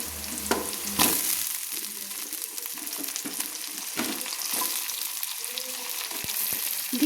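Two potatoes cut into thin long strips fry in oil in a pan, a continuous close sizzle broken by a few stirring knocks and scrapes.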